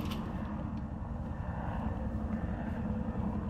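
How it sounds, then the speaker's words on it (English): Helicopter in the Resident Evil 2 Remake video game, a steady low engine and rotor drone that fills the moment without any talk. "Sounds like a helicopter."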